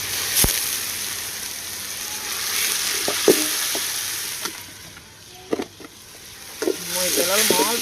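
Food frying in a pan over a wood-fired stove while pulao and chicken curry are cooked: steady close sizzling throughout, with scattered clinks and scraping stirs and brief faint voices in the background.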